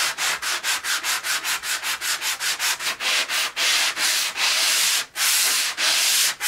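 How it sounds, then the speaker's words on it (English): Steady rhythmic hand sanding, close and loud, with quick regular strokes that slow into longer rubbing passes. "since I'm sanding, might as well go on the other side and tackle this"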